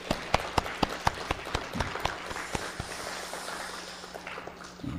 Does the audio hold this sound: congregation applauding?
yes